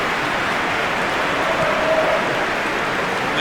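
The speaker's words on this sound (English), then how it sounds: "With that, the heavens open. It's raining on Merseyside." Rain falling on a football match in PES 2021, set on Merseyside: an even, continuous hiss of rainfall without breaks, fairly loud and alone.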